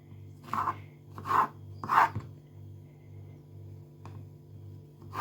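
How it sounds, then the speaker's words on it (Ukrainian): A knife slices an eggplant into strips in a home kitchen, with a few soft rasping cuts, each short and close, against a low steady hum. "взяла баклажан і нарізайте на отакі пластиночки і потім ріжу пополам."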